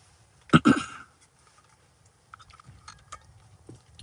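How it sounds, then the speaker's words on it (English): A single throat clear from someone riding in a car running Tesla FSD V14.1.4, a sharp close burst at the start followed by quiet cabin noise and faint light ticks. "Sorry, clear my throat."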